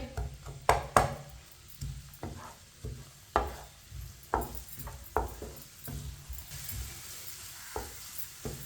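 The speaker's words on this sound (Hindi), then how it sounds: "प्याज को मैंने 1 मिनट के लिए पका लिया" Chopped onion cooking and being stirred in a pan while chicken recipes are prepared, with a steady sizzle and repeated sharp scrapes and taps of a utensil on the pan, close and fairly quiet.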